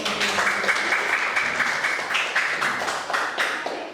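Classroom applause for the first student group as it comes forward to present, a dense burst of many hands clapping at close range that holds steady through the clip, with no talk.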